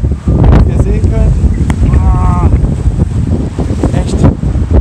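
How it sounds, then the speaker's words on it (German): Strong wind buffets the microphone beside a stormy sea, a loud rumbling roar with gusts throughout, and faint voices come through under it. "Echt windig"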